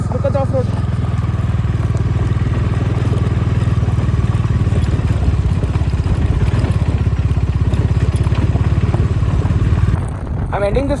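A motorcycle rides slowly and carefully off-road on a rural trail, its engine chugging steadily up close with rattling clatter, and a voice speaks over it throughout.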